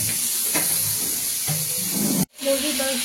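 Chicken pieces fry in a pan with a loud, close sizzle and hiss, broken by stirring scrapes and a brief sharp dropout, with a voice talking over the cooking.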